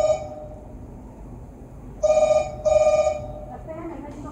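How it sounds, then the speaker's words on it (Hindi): A telephone rings in two short bursts, clear and fairly close, after a quiet stretch with faint background noise. "लगता है मेहता जी का फोन है।"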